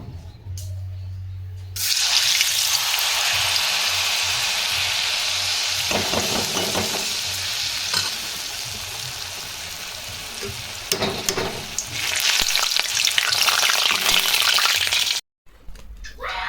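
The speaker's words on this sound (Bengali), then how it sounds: "মালপোয়ার ব্যাটার করে রেখেছি তেলে ভাজবো ও মালপোয়া আর একটু চিপস ভাজবো" Malpua batter and chips frying in hot oil, a loud steady sizzle starting after a short quiet opening and running almost unbroken, with occasional stirring scrapes and a brief gap near the end.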